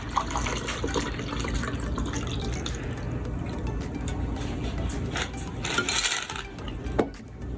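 A blue curacao cocktail with sour mix and pineapple juice pours from a shaker into a glass, a steady liquid trickle with small drips and clinks, a louder splash near the end.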